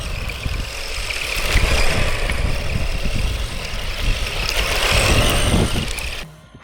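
An Arrma Typhon 665 RC buggy runs on dirt under steady power, its electric motor whining continuously with gritty rumble from the tires, close and loud, before cutting off abruptly at the end.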